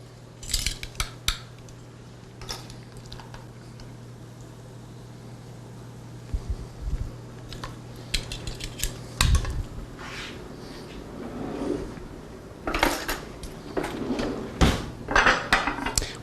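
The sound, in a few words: serrated knife cutting rack of lamb on board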